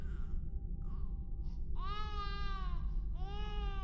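An infant cries in two drawn-out, rising wails over a heavy, rumbling low background, with faint whimpers before them.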